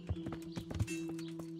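Horse hooves clip-clop in Kingdom Come: Deliverance, several quick, fairly close hoofbeats in an uneven rhythm over a steady low tonal hum.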